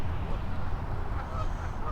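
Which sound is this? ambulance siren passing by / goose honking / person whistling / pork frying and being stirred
goose honking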